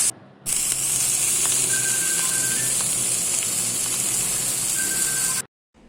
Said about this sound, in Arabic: سامعين بقى فشطشة